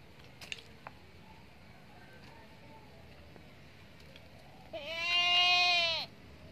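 A Bligon goat gives one loud, wavering bleat near the end, after some quiet rustling and a few soft clicks, with nothing else in the background.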